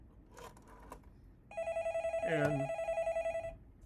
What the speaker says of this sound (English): the slightly more modern phone will ring.